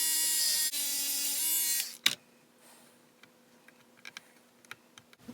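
A Proxxon pen sander buzzes briefly at high pitch while fine-adjusting the rising wood of an HMS Thorn ship model, then stops, leaving a few faint clicks and taps of small parts being handled.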